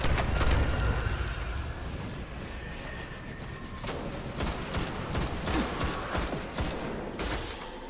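Dense, sustained gunfire fills a firefight in the video game Destiny, with rapid shots and bursts layered over a constant rumble, sharp cracks punctuating the second half.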